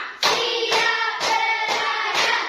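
A primary school class claps together on a count, five crisp, evenly spaced group claps ringing out close by, each a short bright burst with a voice audible between them.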